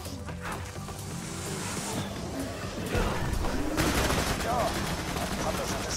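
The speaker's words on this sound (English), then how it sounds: "let's just shoot that tree, shall we?" Sustained rapid gunfire in Borderlands 2 as a player shoots at a tree, a dense burst of automatic fire that grows louder partway through and continues steadily under a game soundscape.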